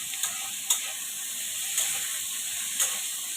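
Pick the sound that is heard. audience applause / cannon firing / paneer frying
paneer frying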